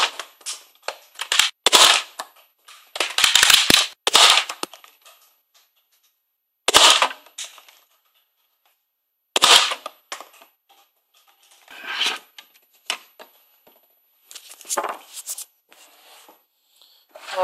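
A Nerf Zombie Strike Sledgefire blaster is worked and fired, giving a series of sharp, close clacks and snaps in irregular clusters separated by silent gaps.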